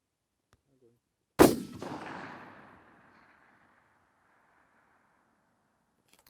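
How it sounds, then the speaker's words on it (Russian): One sharp shot from a VPO-114 "Tayozhnik" rifle, fired at a long-range gong target, cracks out of near silence, its boom echoing and fading over about a second before quiet returns. "Так, внимание, выстрел."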